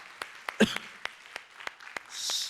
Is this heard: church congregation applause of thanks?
yes